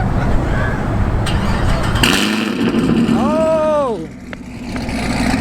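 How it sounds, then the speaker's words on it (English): A car at a car meet cranks and fires up with a loud burst, then gives a few sharp rising-and-falling revs before dropping to idle, with a voice exclaiming over it. "Let's start this thing up."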